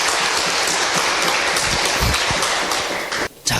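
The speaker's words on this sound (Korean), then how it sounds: "여기까지 이해되신 분들만 박수 한번 쳐볼게요" A seminar audience claps together in a dense, loud burst of applause that runs steadily for about three seconds, then cuts off abruptly.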